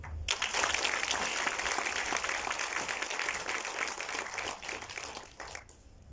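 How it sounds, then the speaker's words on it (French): Audience applause at the Mauritian film premiere, dense steady clapping filling the hall for about six seconds before thinning out at the end. "Et je vous demande surtout de les applaudir."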